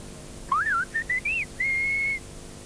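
Whistled speech in the Silbo Gomero style: a clear, close whistle with gliding pitch, a few short phrases ending in one long held tone.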